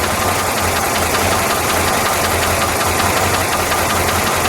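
A 1966 Plymouth Satellite with a factory 426 Hemi and 4-speed idles, a loud, dense, steady rumble with a faint rhythmic lope, close and continuous with no voices.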